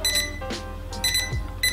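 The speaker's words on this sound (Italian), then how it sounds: "ho impostato la sveglia alle 17:44, quindi tra un minuto dovrebbe suonare" An alarm clock rings in bursts of bright, repeating electronic beeps separated by short gaps, with a few soft handling noises between them.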